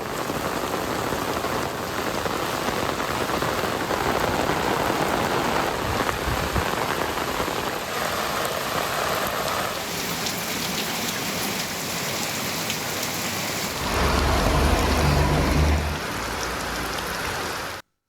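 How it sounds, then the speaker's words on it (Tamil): Heavy rain pours down with strong wind around Alangudi in Pudukkottai district, a dense, loud, continuous hiss of drops on surfaces that swells and eases, with gusts rumbling through near the end. "புதுக்கோட்டை மாவட்டம் ஆலங்குடி சுற்றுவட்டார பகுதிகளில் பலத்த காற்றுடன் கனமழை கொட்டி தீர்த்தது."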